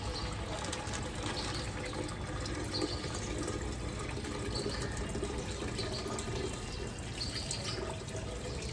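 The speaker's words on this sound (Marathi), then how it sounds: "आता आपण याच्यात हलक्या हाताने एकदम पाणी सोडायचं" Tap water poured gently from a pitcher into a home fish tank with sand and an ornament inside, a steady, soft, continuous splash and trickle of filling water with no speech.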